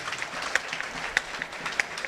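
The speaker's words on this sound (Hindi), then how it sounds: "जोरदार तालियों से अभिनंदन" A seated poetry-recital audience gives loud, steady applause, a dense wash of clapping hands with a few sharper claps standing out, carrying on throughout without speech.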